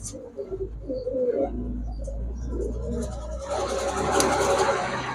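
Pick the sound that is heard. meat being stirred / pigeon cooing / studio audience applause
pigeon cooing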